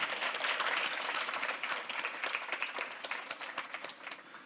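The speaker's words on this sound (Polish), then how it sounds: "Brawa dla niego." Audience applause for a distinguished Japanese architect guest at an international student design competition event, a dense burst of many hands clapping that is loud at first and gradually thins and fades.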